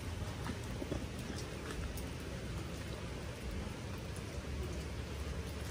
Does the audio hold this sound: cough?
no